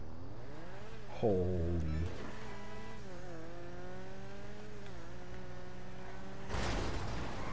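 Video game car driving with a steady engine drone, revving that rises and falls through gear changes, a brief tire squeal or skid early on, and a burst of noise near the end, with a voice exclaiming briefly.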